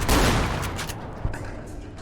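Enemy gunfire in Fallout: New Vegas, a dense rattling burst of rapid shots that fades out, followed by a single sharp shot and softer ambient combat noise.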